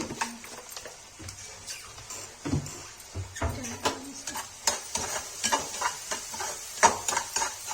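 Vegetable masala with red chilli, tomato and yogurt frying in a pan for a Kashmiri lal saag, a soft sizzle under repeated spoon scrapes and taps on the pan in an uneven rhythm, close, no voices.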